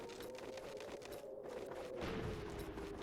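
Cannon fire in the video game Star Fox Adventures: a dense, continuous barrage of rapid booming shots over a steady droning hum, growing heavier toward the end.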